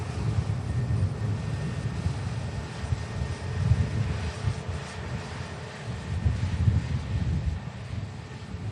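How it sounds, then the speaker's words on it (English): A KLM airliner taxiing past at Manchester Airport gives a low, steady engine rumble with gentle swells, fairly distant and soft, mixed with some wind noise. "the beautiful KLM taxiing past us"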